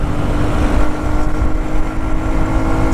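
A Shineray Worker Cross 150 motorcycle engine drones steadily at cruising speed, mixed with heavy wind rush, loud and continuous with no breaks.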